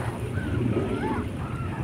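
Waves washing along the Manila Bay shore make a steady, continuous wash under wind noise, with faint distant tonal sounds on top.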